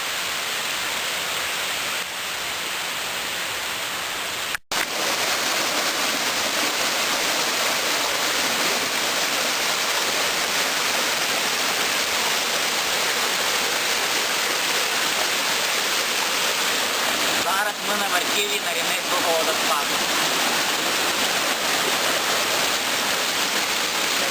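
Rushing water roars steadily at the Narinets waterfall in a mountain stream valley, a dense, constant wash of noise with one brief dropout near the start.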